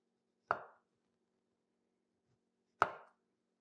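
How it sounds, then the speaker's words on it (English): A knife cutting peel away from an orange on a board. Two sharp, close, separate strokes come a couple of seconds apart in otherwise quiet surroundings. "and then you can lay it flat, and then you're going to work getting that peel off"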